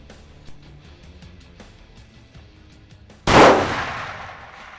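A single loud rifle shot cracks out while hunting whitetail deer in North Texas, an abrupt blast that rings and decays over about a second after a quiet stretch of faint background noise.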